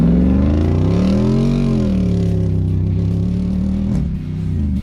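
A 2024 Jeep Wrangler Rubicon 392 V8 revs hard off-road, its loud engine note rising, dipping and climbing again through gear changes, close and continuous before cutting off abruptly.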